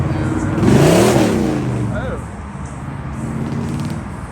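A Porsche Carrera engine swells in a brief throaty rev that rises and falls, while voices talk loudly over it close by.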